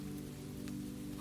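Steady rain falls on the roof of an old brick cottage, a soft, even patter with a gentle continuous hiss and no voices.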